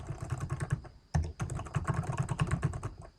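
Rapid, steady clatter of keys on a computer keyboard, close up, with a brief pause partway through before the typing resumes.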